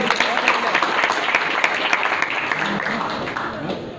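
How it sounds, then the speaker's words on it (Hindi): Dense applause from a large crowd, a steady wash of clapping that fills the whole moment and tapers slightly toward the end. "जोरदार तालियां एक बार फिर से"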